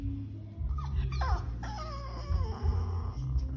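Dog whimpering and crying in high, wavering whines and yips, close by, with low room noise beneath and no clear talk.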